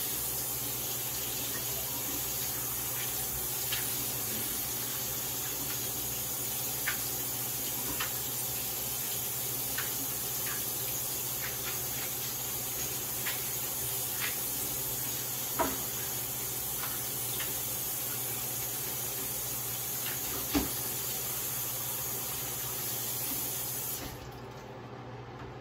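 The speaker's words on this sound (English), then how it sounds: "Then I put it back under hot water." Hot tap water running steadily over food in a kitchen sink while cooking Haitian-style fried chicken, a constant moderate splash with occasional small clicks and knocks, stopping at the very end.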